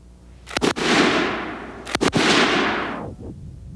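A BAR .30-06 rifle fires two short, loud bursts close by, each a rapid cluster of sharp cracks followed by a long rumbling echo that rolls away outdoors.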